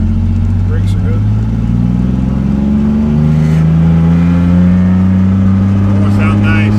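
A GMC Sierra pickup with a 4.3L Vortec V6 accelerates hard during a timed run, with a loud, close engine drone rising steadily in pitch through the gear.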